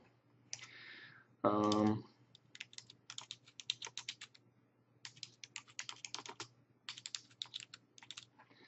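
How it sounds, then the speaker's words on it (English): Typing on a computer keyboard in a quiet room, with fast bursts of clicky keystrokes separated by short pauses and a brief muffled knock near the start. "I'm going to type in"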